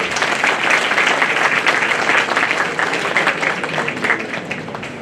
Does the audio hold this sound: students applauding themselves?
yes